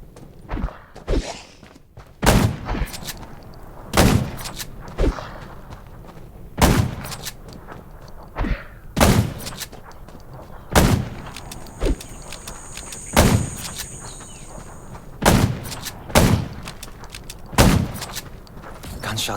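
Gunfire from the zombie survival game Undawn: single heavy shots crack out at irregular intervals, roughly a dozen booming reports with short gaps, along with faint rustling movement and a brief high electronic tone partway through.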